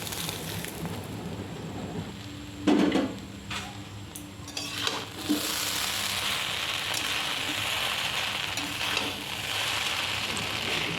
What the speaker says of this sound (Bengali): এবার আমি চাউমিনের সাথে ডিমটাকে মিশিয়ে দেব